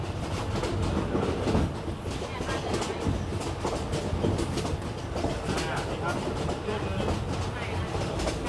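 A train rolls along the railway line from Bangkok to Kanchanaburi, half-halting and half-moving, giving a steady close rumble with rhythmic clickety-clack from the wheels and faint indistinct voices in the background.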